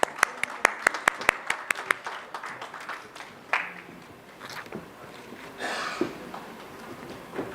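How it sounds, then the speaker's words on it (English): Scattered, crisp claps from an audience at a corporate business summit welcoming a guest, a handful of distinct hand claps early on that fade into quieter room murmur and faint movement. "Let's welcome Anuj Agarwal, sir, with a huge round of applause, please."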